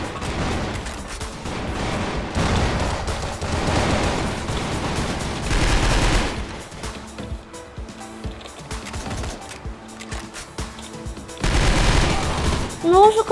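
Bursts of rapid gunfire in the video game CrossFire crackle in stretches, loud and close, with quieter gaps between volleys and faint talking underneath.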